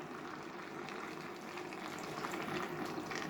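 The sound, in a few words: pouring hot water from a kettle into the pan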